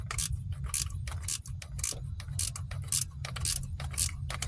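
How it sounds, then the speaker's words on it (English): Rapid bursts of clicking from a ratcheting wrench loosening a bolt on a 2005 Ford Focus starter, close up, coming in about eight short ratchet strokes over a low steady hum. "I got my ratcheting wrench here."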